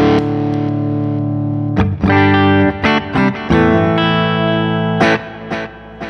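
Electric guitar played through a Vertex UltraPhonix MkII Dumble-style overdrive pedal on a clean setting: several sustained chords and strummed bursts with ringing overtones, loud and close, with no talking.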